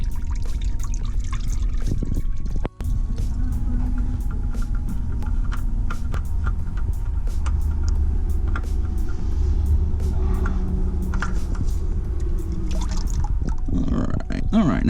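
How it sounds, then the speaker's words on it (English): Motor oil draining from a hole punched in the side of the oil filter on a C6 Corvette, a continuous close trickle under a steady low rumble, with a voice speaking over it. "I poked a hole right here, sort of in the side, and I'm letting some of the oil drain out"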